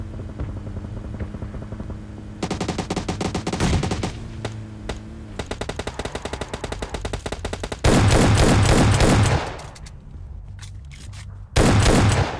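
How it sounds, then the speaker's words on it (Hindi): Rapid bursts of automatic gunfire from a PUBG Lite battle, loud and close with dense rattling volleys, brief pauses and single shots in between. "गन शॉट की आवाज भी आ रही है"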